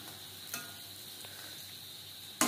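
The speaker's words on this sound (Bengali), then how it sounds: "বড়া ভাজবো মিডিয়াম ফ্লেমে" Lentil fritters frying in hot oil over a medium flame, a faint, steady sizzle with a couple of soft clicks and a brief louder burst at the end.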